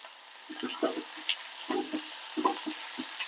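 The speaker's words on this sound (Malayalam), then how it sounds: "ഒരു ഉള്ളി ഒരു പച്ചമുളക് നന്നായിട്ടൊന്ന് വയറ്റിയെടുക്കുക" Onion, green chili and curry leaves sauté quietly in oil in a pan, broken by irregular scrapes and taps of a spatula stirring them.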